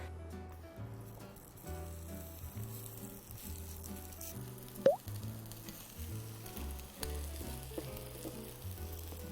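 Squid and vegetable pancake frying in oil over medium heat, a soft steady sizzle with faint crackles and one small sharp pop midway, quiet and without talk.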